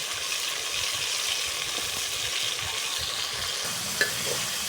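Salt- and pepper-seasoned ingredients for chicken pasta frying in a pan, a steady close hiss and crackle of oil with faint stirring scrapes and one small clink near the end.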